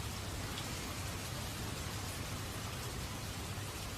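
Steady, dense rainfall hissing evenly on surfaces, a soft continuous wash of drops with no breaks, no voices and no distinct thunder, held at a low, constant level throughout.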